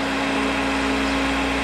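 A steady motorized whine hums continuously from a Rush 132 drill grinder's wheel spinning at speed, with a constant tonal drone and no voices.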